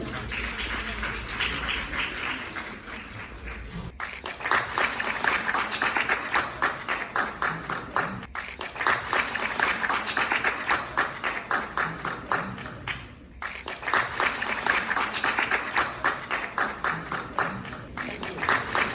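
Applause from a national conference audience, moderate and steady clapping in long stretches broken by a few brief near-silent gaps, sounding fairly distant in a hall.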